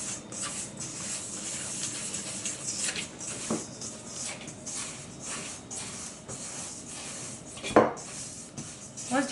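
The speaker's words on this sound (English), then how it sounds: "we're going to mix that together with the spatula that we used with the flour mixture" A spatula works vanilla cake batter in a mixing bowl for a chocolate pudding cake, making soft scraping and knocking sounds at a steady pace, with one sharper clack of utensil against the bowl near the end.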